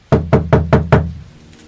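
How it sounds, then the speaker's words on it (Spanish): Five loud, evenly spaced knocks on a door come in quick urgent succession, close up and alone, then fade into a brief quiet tail. "alguien llamó con apremio a su puerta"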